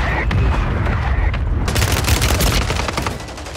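Rapid bursts of video game gunfire crack out, loud and dense, with a heavier volley of shots after a short lull and faint voices mixed in beneath.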